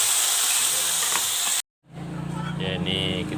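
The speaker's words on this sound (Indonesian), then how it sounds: "Kita goreng terlebih dahulu tempe gembusnya nih ya." Tempe gembus frying in a pan gives a strong steady hiss and sizzle, cut off by a brief silence, then quieter frying returns with speech over it.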